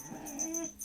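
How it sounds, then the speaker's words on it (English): A dog whining in short, high, thin whimpers, faint and close, with a few wavering cries across a brief moment. "Whiny dogs, that's what the world needs."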